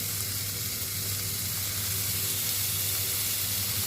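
Chicken döner meat sizzles in a heated non-stick pan: a loud, continuous, even frying hiss, close up and unbroken, with no talking.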